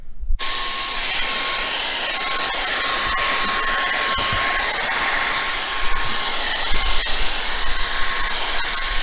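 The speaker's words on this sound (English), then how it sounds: "so now I gotta bust the vacuum out" A vacuum cleaner runs steadily while cleaning debris off the dashboard of a Nissan S14 240SX, with a loud continuous whine and a few bumps and knocks as the nozzle moves around.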